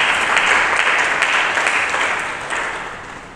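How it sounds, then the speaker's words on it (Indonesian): A church congregation applauds for Jesus during a sermon, a dense, steady wash of clapping that holds loud throughout and tapers slightly at the end. "Berikan tepuk tangan bagi Yesus"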